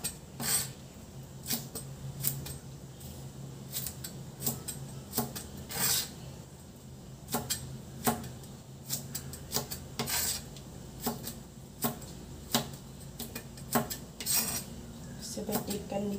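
Green beans are cut into long thin pieces in a kitchen, giving repeated sharp knife taps and clicks on a board in an uneven rhythm with faint scraping between strokes.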